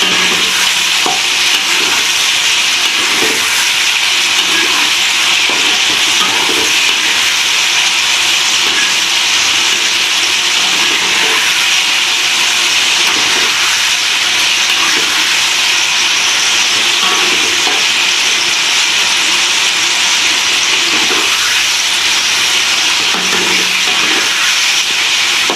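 Long beans frying in oil and turned in a pan for a home-style Padang dish, a loud continuous sizzle and hiss with soft scraping stirs recurring throughout.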